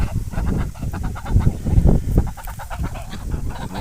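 A flock of three-month-old Mammoth geese honks continuously, a dense, close chorus of overlapping nasal calls with no pauses.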